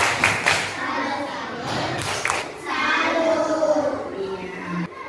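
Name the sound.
class doing a 'tepuk salut' clapping routine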